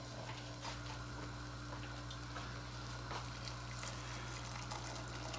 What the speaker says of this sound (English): going in now with another 100 ml of water